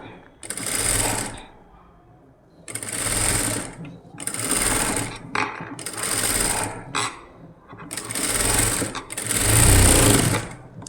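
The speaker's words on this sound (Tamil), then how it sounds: "இந்த மாதிரியே இப்படியே ஒரு லைன் ஃபுல்லாக ஸ்டிச் பண்ணி எடுப்போம்" A sewing machine stitches along the neckline of an umbrella gown in rapid whirring bursts. Short pauses separate the bursts, and a voice talks in the background.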